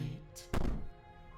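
A single heavy thump lands on a door in the horror visual novel Slay the Princess, a short loud impact over a quiet low ambient drone, with no voices.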